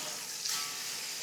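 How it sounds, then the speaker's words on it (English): Rutabaga and turnips sear in rendered fat in a pot for a pot roast, a brief steady close hiss of frying with a light stir at the end. "Now you're getting a real sear on that."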